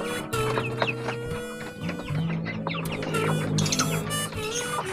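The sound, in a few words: chickens clucking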